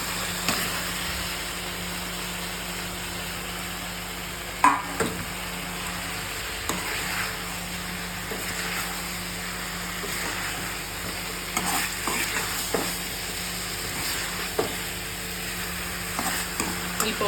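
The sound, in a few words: stirring and frying spice masala for fish curry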